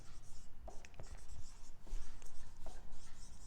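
A pen scratches out a formula in quick continuous strokes with small taps, close and soft, over steady low background hum.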